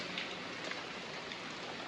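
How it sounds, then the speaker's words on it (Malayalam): Steady rain falls in a soft, even patter, a constant wash of drops with no other sounds. "നല്ല മഴയാണ് മഴ ദിവസമാണ്"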